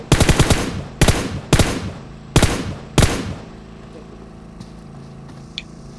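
Video game gunfire: five loud, close bursts of rapid automatic shots about a second apart, each cut short, followed by quiet background and a faint click.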